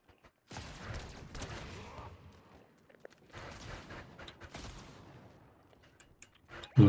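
Bursts of gunfire crackle somewhere behind the players in Fortnite, two clusters of rapid, fairly faint shots separated by near-silence, with a louder hit at the very end.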